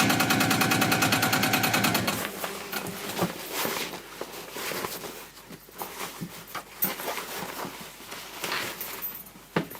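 A sewing machine top stitching around a fabric panel tote bag, with a fast, steady mechanical chatter for the first two seconds, then quieter irregular handling and shuffling of the fabric.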